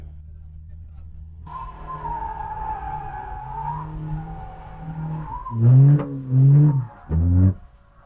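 A BMW E92 drift car warms its tires on the Kielce track: the engine holds a steady tone with tire squeal, then three loud, short revving bursts come near the end.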